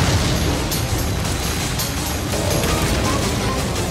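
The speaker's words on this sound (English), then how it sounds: "The potent cargo of crude oil and ethanol explodes." A cargo of crude oil and ethanol explodes into a huge fireball in the Oklahoma countryside, a loud, continuous, roaring rumble that stays steady throughout.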